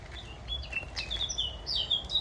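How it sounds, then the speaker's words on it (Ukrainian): Birds sing in a forest outside Münster, Germany, a series of bright chirps and short whistled phrases over a soft background hush, moderately near. "ліс, пташечки витьохкують"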